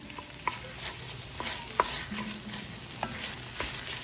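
A spoon stirs tomato paste into browned Impossible burger crumbles in a frying pan, with soft scraping and gentle sizzling throughout and a few sharp clicks of utensil against the pan.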